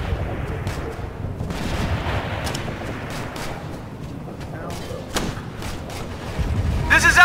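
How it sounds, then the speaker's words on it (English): Gunfire in Operation Flashpoint: Red River, scattered rifle shots cracking at uneven intervals over a rumbling battlefield, with shouted voices in the mix and a dense burst at the end. "We're under fire!"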